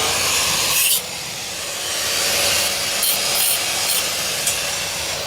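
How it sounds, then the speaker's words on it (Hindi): Cutting through material along a marked line, likely metal in a makeshift workshop job, makes a loud, continuous grinding rasp that drops briefly and then resumes steadily without pause. "अब इसको लगा दिया निशान, कटिंग चालू।"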